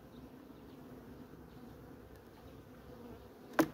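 Honeybees clustered in a resting hive at about 20 degrees give off a low, steady, close hum, ending with a sudden short knock.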